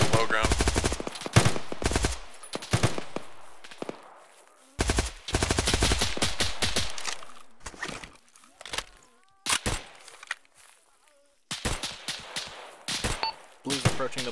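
Bursts of rapid automatic gunfire and single cracks from shooters in the military game Arma on the island of Sahrani, loud, close volleys separated by short lulls, with players talking between them.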